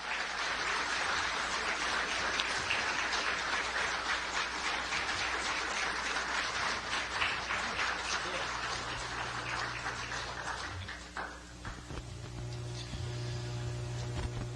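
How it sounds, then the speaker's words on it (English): Audience at a Kansas gubernatorial debate giving the candidates a sustained round of applause, dense steady clapping that thins out near the end and leaves a low hum. "Let's give them a round of applause."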